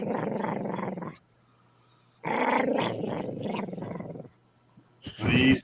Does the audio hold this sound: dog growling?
yes